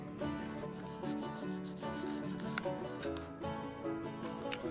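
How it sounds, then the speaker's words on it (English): Sandpaper rubs down the plastic wall of a model railroad coaling tower in short, repeated scratchy strokes, close and fairly quiet, with steady background music underneath. "I decided to go the other direction and sand down the area around them"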